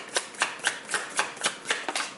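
Tarot cards being shuffled by hand, a quick run of eight or so crisp riffling snaps in a steady rhythm, close and moderately loud with no talk.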